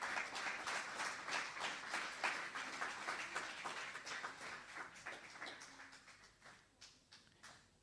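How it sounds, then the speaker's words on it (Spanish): Church congregation clapping during a sermon, a soft, steady patter of many hands that stays fairly distant and gradually thins out toward the end. "Denle un aplauso al Señor"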